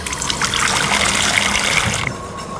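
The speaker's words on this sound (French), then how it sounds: "Je mets directement à rafraîchir à l'eau froide." A peach being cooled under cold running tap water, a steady close trickle and splash that runs continuously and then stops abruptly near the end.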